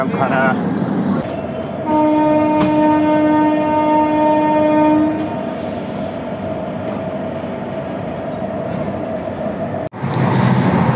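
Rumbling interior of the moving Poorva Express train at night, with a steady loud drone, a long sustained horn-like tone in the middle, and a sharp clunk near the end.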